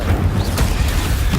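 An Incendio fire spell bursts in the video game Hogwarts Legacy as a short, loud, rumbling blast of fiery noise that fills the whole moment without any voice.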